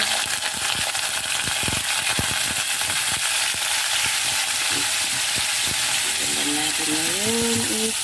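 Squid hitting hot oil in a pan and sizzling steadily for adobo, a continuous bright frying hiss with a few sharp clicks and stirring knocks; a voice hums a short tune near the end.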